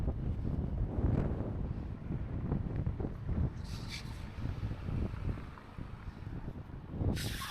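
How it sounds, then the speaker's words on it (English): Strong wind gusting across a microphone at an industrial harbour in Ventspils, Latvia, a steady rough roar with louder buffeting bursts, close and continuous, with no talk. "It's so windy, I'm struggling to even stay stood up."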